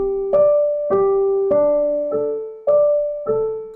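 An ear-training melody from measure 7 sounds as six clear, evenly spaced struck notes on a keyboard-like instrument, each decaying before the next, close and alone with no voices.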